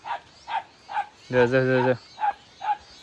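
Village dogs bark in a run of short, sharp yips spaced about half a second apart. A person says a brief word in the middle of the barking.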